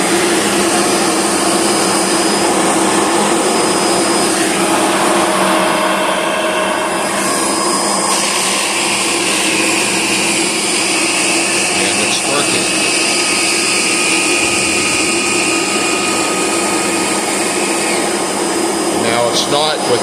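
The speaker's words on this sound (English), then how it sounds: "you probably won't be able to hear me over the noise of the vacuum" A Shark vacuum cleaner with a faulty brush bar drones loudly and steadily throughout, its whine shifting slightly in pitch now and then, with no pauses.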